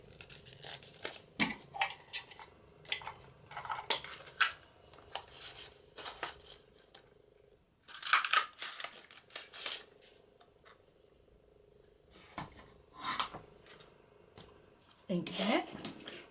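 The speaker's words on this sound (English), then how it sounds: "let's get some paper and punch one out" Paper is punched and cut into a whale's tail tab, a series of close, sharp crunching clicks and rustles coming in uneven bursts with quiet gaps between them.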